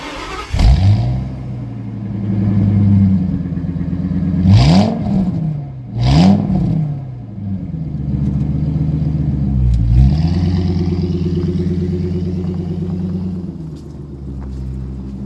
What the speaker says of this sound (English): this is my 2001 Ford F350